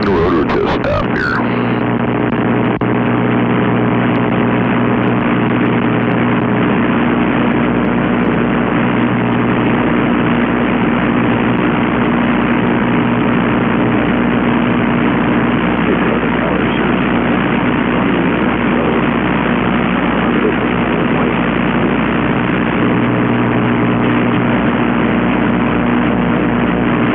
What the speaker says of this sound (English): And we'll bring the rotor to a stop here.